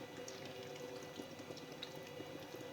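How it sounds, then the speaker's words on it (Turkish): Syrup (şerbet) is poured over a tray of baklava, a soft continuous liquid trickle and splash heard close and fairly quiet, with no talk. "İlk defa, ilk defa baklava şerbeti verdim arkadaşlar"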